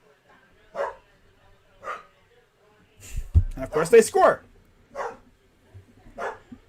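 A dog barks indoors in single sharp woofs spaced about a second apart, with someone talking excitedly in the middle over a basketball game commentary.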